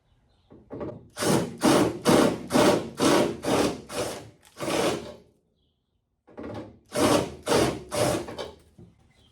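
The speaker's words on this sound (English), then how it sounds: "So I have to drill that out." A power drill whines in repeated short bursts, about a dozen pulses in two groups separated by a pause, drilling out a hole in a 1972 VW Super Beetle dashboard up close.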